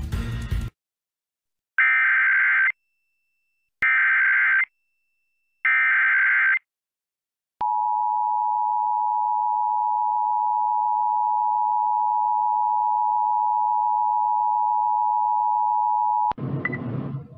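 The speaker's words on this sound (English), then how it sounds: "We do need to run the emergency alert system tones right now." Emergency Alert System tones broadcast on WMYX-FM Milwaukee radio for an AMBER child abduction alert: three short data bursts, then a long steady attention tone lasting about nine seconds, with voice briefly before and after.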